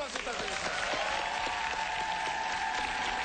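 Audience applause at a Christmas special TV show with teen and singer dance teams, a steady dense clapping from a studio crowd filling the whole stretch, with a host's voice faintly over it.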